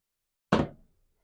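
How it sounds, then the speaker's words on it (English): One dull thump from water trapped under a pot on a stove burner, a single short knock that fades quickly, heard alone. "Pardon the thumping sound. That's the water on the bottom of the pan."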